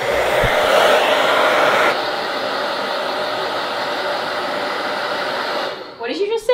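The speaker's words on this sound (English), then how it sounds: "Blow drying it" A hair dryer blows steadily across an acrylic painting, a loud continuous whooshing roar that dips slightly after a couple of seconds and cuts off near the end.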